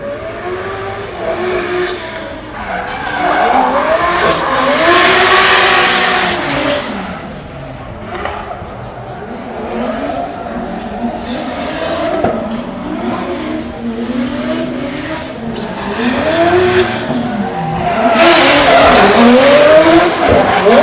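Drift car at a Drift Masters practice session in Ireland, engine loudly revving up and down in repeated sweeping surges with tyres squealing and skidding throughout, close and continuous for about twenty seconds.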